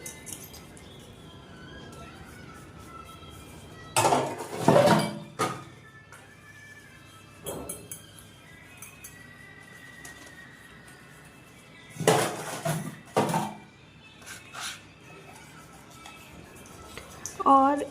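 Dishes, pots and utensils being washed by hand in a home kitchen, with clattering and clinking bursts around four, twelve to thirteen and seventeen seconds over a quiet background, plus a few lighter knocks in between.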